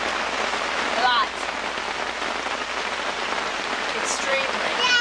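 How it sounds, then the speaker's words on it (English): Heavy rain falls outside, a dense, constant loud hiss of drops striking surfaces at a campsite, with a few faint voices now and then underneath. "It's raining outside. A lot."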